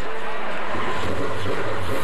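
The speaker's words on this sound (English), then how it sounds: "as Alex Labay gets his Dave Jacobs Racing Dodge going here today" A Dodge stock car in a NASCAR Canada race at St-Eustache fires up into a loud, continuous, rough engine roar that fills the scene, close and harsh, with no clear talking.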